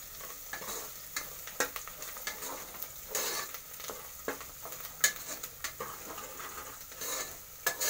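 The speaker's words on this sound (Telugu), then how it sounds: "కొత్తిమీర వేస్తున్నాము. బాగా నూనెలో వేగాలి." Coriander leaves frying in oil for a mutton curry give a steady close sizzle, broken by scattered sharp clicks and scrapes of stirring in the pan, with no talking.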